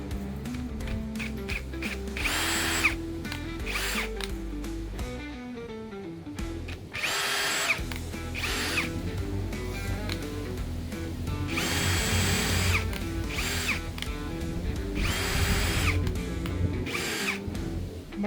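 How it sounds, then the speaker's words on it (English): A power drill whirs through wood in repeated bursts, pre-drilling holes, revving and stopping with short pauses between holes, close and loud with no talking. "I'm just going to pre-drill anyway"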